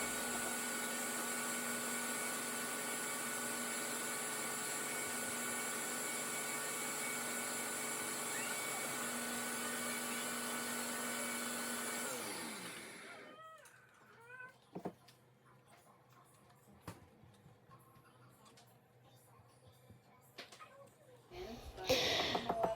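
A kitchen blender whirs loudly and steadily while processing Puerto Rican sofrito, then stops, leaving scattered clinks and scraping as the mixture is worked out of the appliance.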